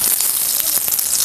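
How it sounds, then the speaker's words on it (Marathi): Eggplant sizzles in hot oil in a kadhai, a bright, dense hiss of frying close up with small crackles and pops throughout. "कढईमध्ये वांगी टाकायचं।"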